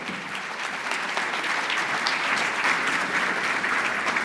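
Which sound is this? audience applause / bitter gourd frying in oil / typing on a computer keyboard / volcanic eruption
audience applause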